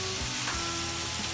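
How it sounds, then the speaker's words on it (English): Sausage pieces frying in a pan for spaghetti, a steady close sizzle with faint scraping as they are stirred, no voices. "you want to evenly stir your sausage"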